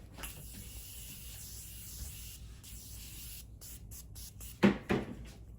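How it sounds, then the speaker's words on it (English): Two short bursts of makeup setting spray hiss close by, following a low steady background hum. "we're gonna add in some continuous setting spray"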